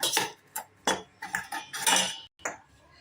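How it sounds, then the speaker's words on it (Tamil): Repeated clinks and scrapes of a utensil against a bowl while mashing bananas for banana halwa, in irregular bursts with short pauses, close and fairly loud. "இப்போ நம்ம இதை நல்லா மசிச்சுக்கலாம்"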